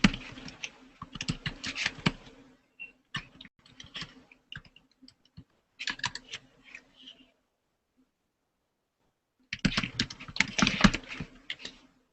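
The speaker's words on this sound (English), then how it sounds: "I'll type this in here for you" Typing on a computer keyboard in bursts of rapid key clicks, with short pauses and a longer gap of silence before a final dense flurry of keystrokes.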